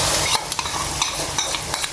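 Ground white beans (lobia) fry in a pot while a spoon stirs them, giving a continuous sizzle with soft scraping strokes and light clicks against the metal, close and clear.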